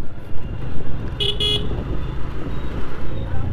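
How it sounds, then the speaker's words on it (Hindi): Two short, sharp honks from a motorbike horn, close by, over a steady rumble of traffic and an idling engine. "ये वाला हॉर्न ना सुनाई नहीं देते ज़्यादा।"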